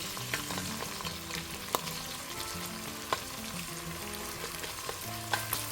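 Collard greens cooking down in a ceramic-coated cast iron Dutch oven, a quiet steady sizzle with soft scraping as a spatula stirs them, plus a few sharp taps against the pot.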